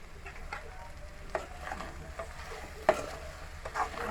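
Okra curry being stirred in a pan, giving a soft sizzling fry with a few scraping strokes of a spoon, close and moderately quiet, with no talk.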